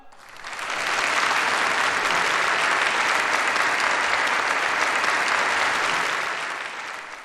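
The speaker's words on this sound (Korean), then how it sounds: "열렬한 축하의 박수를 보냅니다" Sustained, dense audience applause at a ceremony honoring athletes who won medals at international competitions, swelling in, holding steady and loud for several seconds, then easing off at the end.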